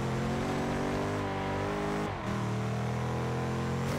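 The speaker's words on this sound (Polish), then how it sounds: "Ale jak jest na biegu i ma tak powyżej 5000 obrotów, to jest taki dźwięk." A hypercar's rear-mounted engine in Forza Horizon 2 holds a loud, steady high-rev drone above 5000 rpm, with a brief dip around a gear change before the strong harmonic roar resumes.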